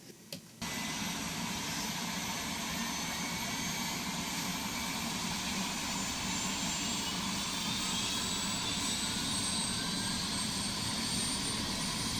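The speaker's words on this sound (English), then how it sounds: "the simplified way of starting the engine in the JRX Bell" Simulated Bell 407 helicopter in X-Plane 12 running its engine after start, a steady, loud turbine whine and broadband roar that holds evenly from just after the opening moment to the end, with no voices.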